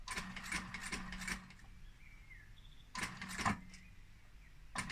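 A sewing machine backstitches a seam on an upholstered sofa cushion, running in short bursts of rapid, clattering mechanical stitching separated by quiet pauses, heard close and moderately loud.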